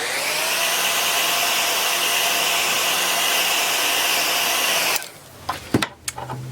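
A hair dryer blows steadily at close range over a craft project for about five seconds, then switches off, leaving a few handling knocks and clatters.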